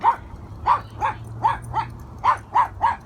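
A dog barks repeatedly in a steady series of about eight sharp, yippy barks, loud and close over a low background hum, with no one talking.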